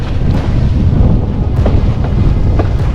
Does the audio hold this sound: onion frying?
no